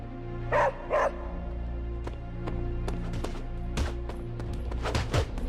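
A dog barks twice in quick succession in Marvel's Midnight Suns, the short woofs standing out fairly close over a steady game soundtrack, followed by faint scattered clicks and small noises.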